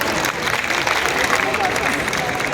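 An audience claps steadily and densely throughout at a spoken gathering, with a murmur of crowd voices underneath the continuous applause.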